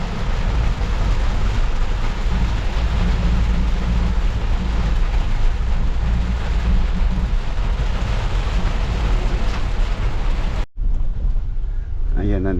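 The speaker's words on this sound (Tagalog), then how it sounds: "Ang lakas po ng ulan dito sa may parking Lubao." Heavy rain pours down at a parking area in Lubao, a loud dense roar that is constant and unbroken until it cuts off abruptly near the end.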